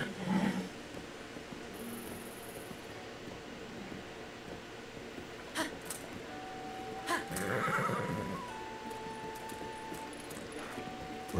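A horse in the Zelda: Tears of the Kingdom video game gives a clear whinny partway through, over a steady bed of game sounds and faint hoof clip-clop, with no talking.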